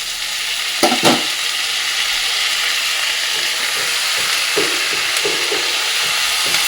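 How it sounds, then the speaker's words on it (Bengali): Fenugreek leaves go into a pan of frying vegetables, with a loud, steady sizzle throughout, a couple of sharp stirring knocks early on and softer scraping later. "এই যে মেথি শাকটা এটা দিয়ে দেবো"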